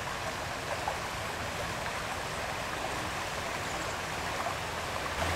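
A polluted, foul-smelling creek runs with a steady, dense rush of water, broadband and unbroken throughout, close by with no voices.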